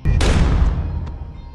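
A single loud gunshot in an action film, a sharp burst followed by a booming echo that decays over a second and a half, with no talk.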